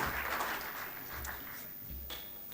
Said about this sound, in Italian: vorrei un applauso da parte di voi sempre per queste grandi persone